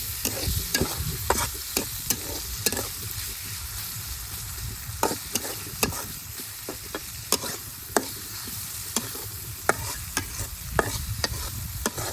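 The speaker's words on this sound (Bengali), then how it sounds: "রসুন কাঁচামরিচ ভালোভাবে বেজা নিছি" Crushed garlic and green chilies frying in oil for a village-style greens dish: a continuous close sizzle broken by frequent sharp clinks and scrapes of a spatula stirring against the pan, no voices.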